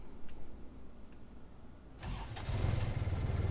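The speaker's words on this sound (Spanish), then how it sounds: "Ahora solo hay que arrancar el motor y podré ir al otro lado." Engine starting in the video game Mermaid Swamp: after quiet low rumble, a motor cranks and catches, settling into a loud, steady mid-pitched running drone that fills the rest of the moment.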